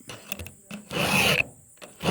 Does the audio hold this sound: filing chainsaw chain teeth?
yes